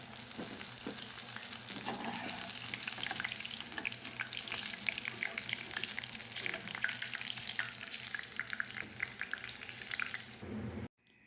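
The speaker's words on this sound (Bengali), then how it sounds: "সাম্বুসা ভেজে নিলাম।" Samosas fry in hot oil with a steady, bright sizzle and crackle that holds for about eleven seconds, then cuts off abruptly near the end.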